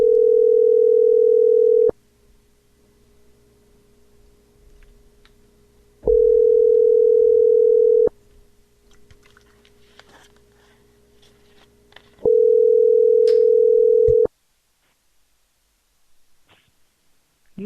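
Ringback tone on an outgoing telephone call: three long, steady buzzing rings, each about two seconds, separated by roughly four-second silences, clear and alone with no talking.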